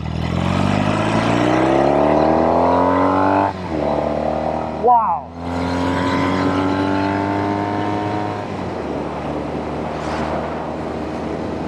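A 1973 Norton 850 Commando Roadster motorcycle engine revs hard and climbs through gears, a quick shift break in between, then roars on; a voice briefly exclaims over it.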